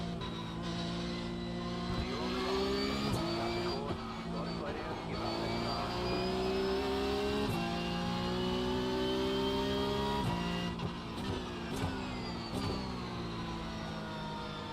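Porsche Cup race car engines at Spa in a sim racing game drone and rev continuously, pitch rising and dropping through gear changes and corners, with someone talking over the engine noise.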